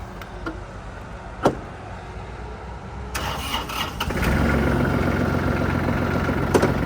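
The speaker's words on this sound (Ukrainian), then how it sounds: "Трактор легко заводиться, свічі накала працюють." A Kubota GL 300 tractor's diesel engine cranks over and catches easily, settling into a steady, rumbling idle up close after a few seconds of quieter clicks.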